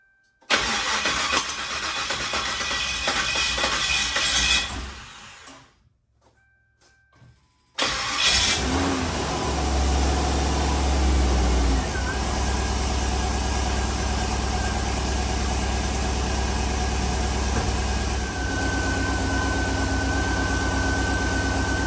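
A turbocharged LS-swapped Crown Victoria that has sat unused for a long time cranks briefly, goes quiet for a few seconds, then catches and settles into a loud, steady, rumbling idle that continues to the end.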